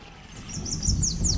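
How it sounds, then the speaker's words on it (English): Birds chirp in short repeated high-pitched calls over a low, rumbling outdoor background, moderately faint and somewhat distant. "I hear birds."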